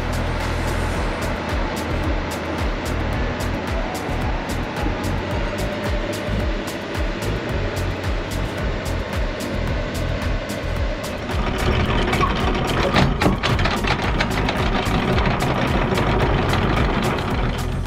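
Ferry engine rumble near an anchored sailboat, a steady low drone of vessel machinery that grows louder and busier partway through as the boat comes out past the anchorage.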